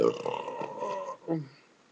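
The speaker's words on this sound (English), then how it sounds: "it has enough in it to give me a good burp" A man burps after drinking Michelob Golden Light beer, a single throaty belch of about a second that trails off into a short second grunt-like release, close and fairly loud.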